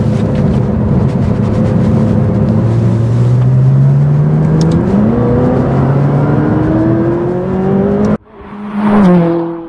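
A McLaren 570S supercar engine droning steadily at low throttle, a continuous near rumble whose pitch rises slowly as it pulls, then cuts briefly before swelling again.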